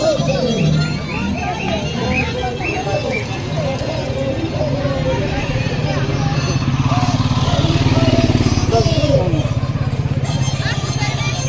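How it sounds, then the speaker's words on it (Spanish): A motorcycle rides through a village festival in Acraquia, Ahuaycha, Peru, its engine droning steadily and growing louder while people talk and chatter over it. "Nos vamos en moto"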